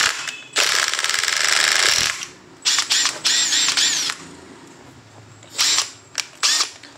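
Makita TD132 cordless impact driver driving screws, a long loud whirring hammering burst followed by several shorter bursts separated by pauses, close by.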